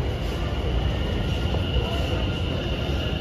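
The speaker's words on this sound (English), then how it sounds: "Both of them are new trains." A passing new train at a railway line, a steady broadband rumble of wheels and carriages that holds loud and continuous throughout, with a faint high whine on top.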